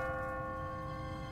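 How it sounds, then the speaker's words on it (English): Church bell in The Walking Dead video game, a sustained ringing bell tone heard alone, fairly faint and steady over the short stretch. "What kind of church bell goes off at 20 past the hour?"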